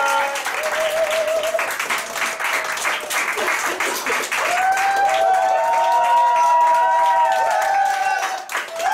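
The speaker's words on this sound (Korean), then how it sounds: "이렇게 박수를 끝까지 쳐야 합니다." Sustained applause from a seminar audience at a Korean side-business talk on social media marketing, dense and steady for the whole stretch, with high tonal sounds drifting above the clapping.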